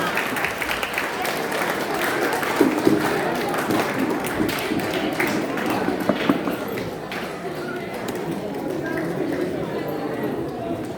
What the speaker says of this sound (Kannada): ಜೋರಾದ ಚಪ್ಪಾಳೆಯೊಂದಿಗೆ ಅವರಿಗೆ ಒಂದು ಸನ್ಮಾನವನ್ನು ಮಾಡೋಣ